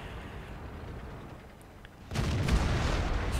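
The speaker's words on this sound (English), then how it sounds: "Looks like the arty's just kicked in." Artillery fire in World of Tanks lands with a sudden heavy boom partway through, followed by a rumbling, crackling aftermath that stays loud after a quieter battle background.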